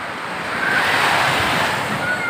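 Ocean surf washes steadily onto a beach, a continuous roaring wash of breaking waves with wind buffeting the microphone, no voices over it.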